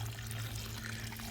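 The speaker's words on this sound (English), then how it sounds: "I'm just going to heavy water it until it drains out of the bottom of the pot." Water pours steadily into a potted dwarf Cavendish banana plant during heavy watering, a continuous quiet splashing hiss.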